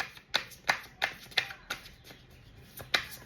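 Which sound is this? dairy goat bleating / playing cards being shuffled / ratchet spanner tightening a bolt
playing cards being shuffled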